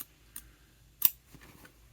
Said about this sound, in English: I will continue my long cut down the middle of my rectangle